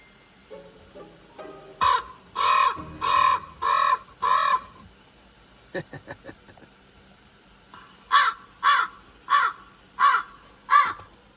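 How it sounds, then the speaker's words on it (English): Crow caws played from a small Bluetooth speaker, in two rhythmic bursts of five, loud and evenly spaced, with a few quick clicks in the short gap between them. "the crows and ravens, and I've got this app connected to my little Bluetooth speaker"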